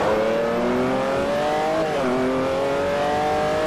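A Ferrari F430 engine revs hard in the Forza 4 racing game, a loud, continuous high-pitched wail that climbs, dips briefly at a gear change, then rises again.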